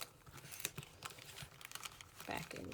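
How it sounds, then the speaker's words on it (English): A small plastic Ziploc bag crinkles and rustles in bursts of close handling, with some speech-like sounds around it. "And I got a little Ziploc bag to put them in."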